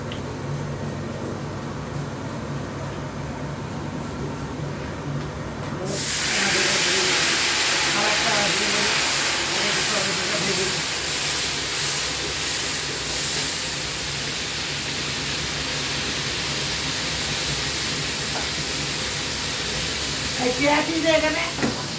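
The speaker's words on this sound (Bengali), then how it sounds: "কালো জিরেটা দিয়ে, কালো জিরেটা একটু ভাজা হয়ে যাচ্ছে" Black cumin (nigella) seeds fry in hot oil as a tempering for aloo posto. A loud, steady hiss and sizzle suddenly swells and continues, with a voice talking over it.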